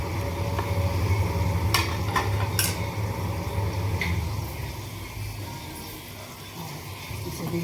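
Turmeric and coriander powder roast in a pan for paneer do pyaza, a steady sizzle with scraping spoon strokes and a few sharp utensil clinks, easing slightly softer toward the end.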